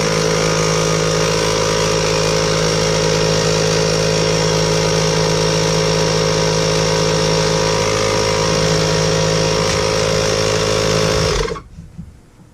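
A Kobalt 24v high pressure inflator runs with a loud, steady buzzing motor drone for about eleven seconds, then cuts off sharply into near silence.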